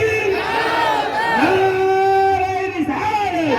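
A large crowd at a religious gathering chants loudly in unison in reply to the Naara-e-Takbeer slogan, a sustained, drawn-out collective shout that fills the space, with a leading voice calling out over it.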